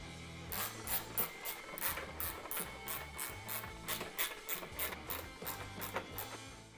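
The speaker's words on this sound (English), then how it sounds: "I'm using a 7/16 socket with an extension" A 7/16 socket on an extension spinning off fender nuts on a Harley touring bike, giving a quiet run of evenly spaced metallic ratcheting clicks, about two per second, close and unaccompanied.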